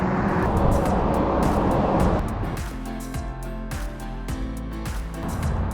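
Constant roar of highway traffic with trucks from inside a moving vehicle in the Columbia River Gorge, with heavy engine rumble and rhythmic thumps of tires over joints in the pavement.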